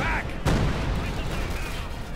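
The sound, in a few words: field gun artillery barrage in Company of Heroes 2 video game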